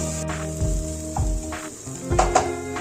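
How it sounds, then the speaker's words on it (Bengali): Onions fry in oil in a pan for Bengali matar ghugni, a close steady sizzle broken by a few soft stirring scrapes and clinks, with no talking. "পেঁয়াজটা একটু ভাজা ভাজা করে নেব।"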